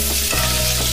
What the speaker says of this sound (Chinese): 再倒入青红椒，继续大火翻炒至断生